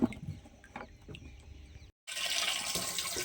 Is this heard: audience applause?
no